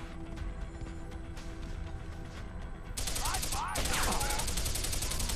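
Gunfire from the Deus Ex: Human Revolution video game: a steady background of battle noise, then from about three seconds a louder run of rapid, bright shots with metallic mechanism clatter, fairly close.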